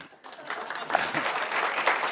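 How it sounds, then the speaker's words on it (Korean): An audience at a Korean church regional leaders' meeting breaks into applause of thanks and encouragement, soft dense clapping that swells and continues steadily, with a little talk underneath. "응원의 박수와 감사를 드립니다"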